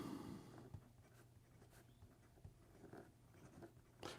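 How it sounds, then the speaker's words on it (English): Monteverde Ritma fountain pen with a medium stainless steel nib writing on paper, soft scratchy strokes and faint taps recurring close by in a quiet room, with no talk. "Here we go with the writing sample for the Monteverde"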